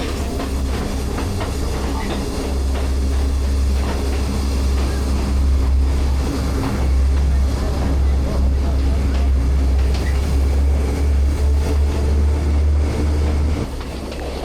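Passenger train running on the Sri Lankan railway near Nanu Oya, a steady loud rumble with rail clatter throughout, heard from on board, with voices talking over it.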